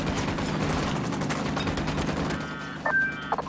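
Automatic gunfire in the video game Ghost Recon Wildlands rattles continuously at moderate distance, then sharper shots punch through near the end over a low rumbling backdrop.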